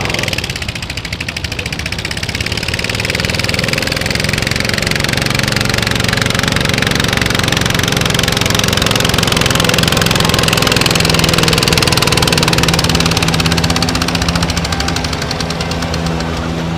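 A garden tractor engine roars steadily at a Steam O Rama tractor pull in Windsor, Pennsylvania, loud and close with a rough, knocking drone that holds nearly constant throughout, no voices over it.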